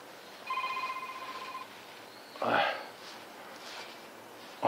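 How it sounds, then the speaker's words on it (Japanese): Telephone ringing with a repeated electronic trill of a few bursts, fairly near, while someone tries to reach it during pine tree pruning; a sharp rustle and clunk follow. "電話だよ。"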